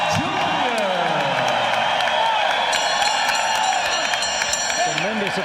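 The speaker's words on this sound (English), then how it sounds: "Tremendous applause for the youngster" Boxing arena crowd applauds and cheers steadily after a technical knockout win by Julio Cesar Chavez Jr., a continuous wash of clapping and whoops while a ringside commentator talks over it.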